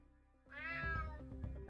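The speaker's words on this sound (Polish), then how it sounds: "Damn cat." A cat in the video game Unmetal lets out one clear, plaintive meow, close and distinct, over a low quiet game background with no talk.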